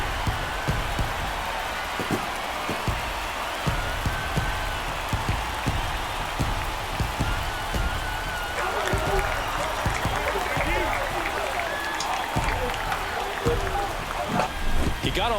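A home crowd at a Pittsburgh Pirates baseball playoff game roars and claps in a dense, sustained wash of cheering, with a commentator talking over it throughout.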